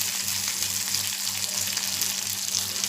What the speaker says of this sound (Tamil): மீன் நல்லா பொரிஞ்சு வந்துடுச்சு பாருங்கள்.